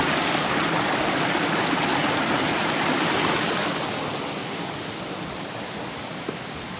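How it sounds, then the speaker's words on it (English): A waterfall along the Coast to Coast path between Shap and Surrender Bridge gives a steady, full rushing roar that holds for the whole stretch and eases slightly partway through. No one speaks. "Nice waterfall."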